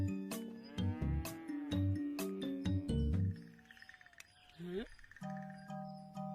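A buffalo lows in a series of deep, resonant calls, some short and some drawn out, with other noises scattered around them.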